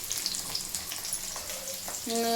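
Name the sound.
frying in oil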